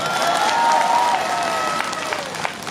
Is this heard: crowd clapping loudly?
yes